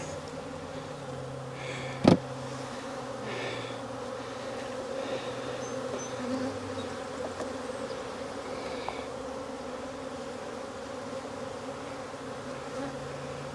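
Honeybees hum steadily around an open hive during a Demaree swarm-control manipulation, a faint continuous buzz with a single sharp knock partway through.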